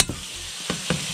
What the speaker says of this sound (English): and I saute it